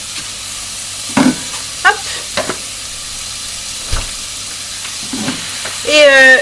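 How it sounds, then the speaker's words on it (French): Onion and minced meat sizzle loudly in a frying pan, a continuous hiss broken by spatula scrapes and stirring knocks, with a brief spoken word over the frying. "Ma poêle elle chante, ça y est mon oignon chante aussi. Du coup je vais ajouter ma viande hachée."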